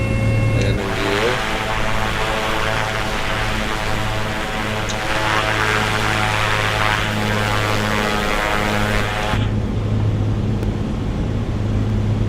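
A propeller airplane during touch-and-go landing practice, heard from inside the cabin as a loud, steady engine and propeller drone that changes pitch partway through, with no talking.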